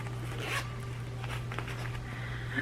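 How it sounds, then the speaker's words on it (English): A zipper on a pencil case is pulled open in a few quick rasping strokes, close by, over a steady low hum in a quiet room. "It has a zipper on it."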